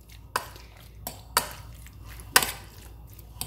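A spoon scrapes and clinks against a bowl while chicken tikka salad with pepper is tossed together, giving a few sharp, irregular knocks over a quiet kitchen background.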